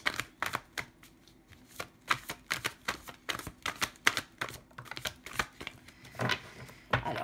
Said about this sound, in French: on va aller chercher les dernières cartes pour ce tirage